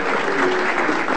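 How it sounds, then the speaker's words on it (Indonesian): A television studio audience on a talk show claps in a dense, loud, continuous burst of applause. "Tepuk tangan dong."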